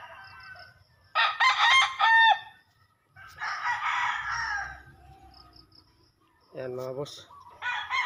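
Roosters on a Filipino backyard farm crow several times, a loud near call and a second shorter crow, with clucking hens around and someone speaking briefly.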